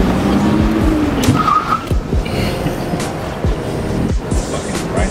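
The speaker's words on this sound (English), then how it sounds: "Trying to scrape and drift at the same time." Car drifting with loud tire squeal and skidding, engine revving and scraping sounds layered over continuous road noise, with short bursts of squeal across the run.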